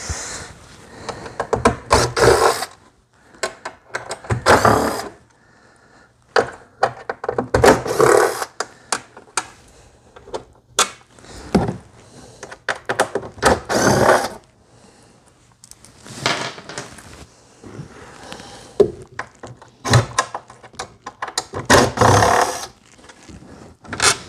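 A screwdriver works on the speakers of a Fender Ultimate Chorus 2x12 guitar amp, giving irregular bursts of scraping, rattling and clicking, separated by quiet pauses, close up.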